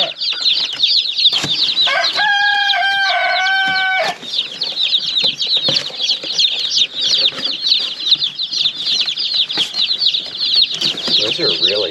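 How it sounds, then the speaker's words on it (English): Day-old meat chicks peep shrilly and continuously in their shipping boxes, a dense chorus of high chirps close by, with a few brief rustles and a short steady tone partway through. "Really nice birds, too. They're all very lively. They're only a day old."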